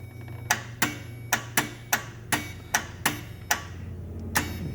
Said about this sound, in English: it's me pressing my power probe and putting the 12 volts directly to the ignition wire of the starter down there